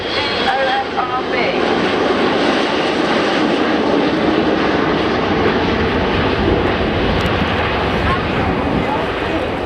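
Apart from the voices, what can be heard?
aircraft flying past in landing configuration at airshow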